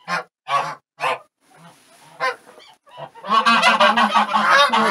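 A gander and goose sitting on their nest in a small farm shed give several separate loud honks, then burst into close, continuous agitated honking.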